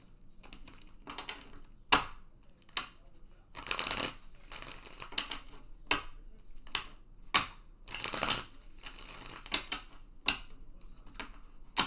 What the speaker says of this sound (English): I'm going to just throw 2 cards down on the moon.